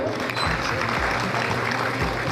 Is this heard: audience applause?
yes